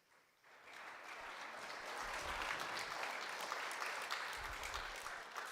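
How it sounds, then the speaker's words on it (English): A gala audience breaks into applause at a charity fundraiser, dense clapping that starts abruptly and stays loud and sustained to the end, with no voices over it. "Let's give a big round of applause to my 2 friends."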